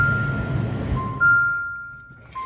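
A Jeep Renegade with the 2.4-liter engine gives a steady electronic chime as its ignition switches on, the tone shifting pitch partway through and restarting near the end, alone and clearly audible from the cabin.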